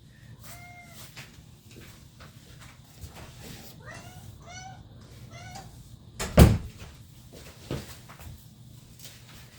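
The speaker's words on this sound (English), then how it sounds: "This bad boy is meowing all the time." A cat named Pancho meows repeatedly indoors, several short rising calls in two clusters, followed by a loud knock like a cupboard or door bumping and a fainter thud afterward.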